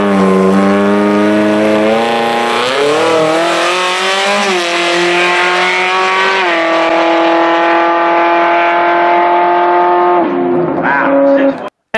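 Car engine fitted with 180 degree headers and no Y pipe, revving with rising and falling harmonic tones, a sustained high howl that climbs in steps, then drops off before cutting out abruptly.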